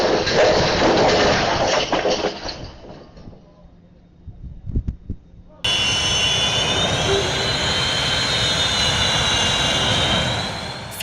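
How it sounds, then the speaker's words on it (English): A Sukhoi Su-27 jet engine roars loudly with blast at an air show, the roar dropping away into a brief quiet patch with a few thumps, then resuming as a steady, high-pitched whine. "A Sukhoi Su-27 can push air at nearly 200 kilometers per hour"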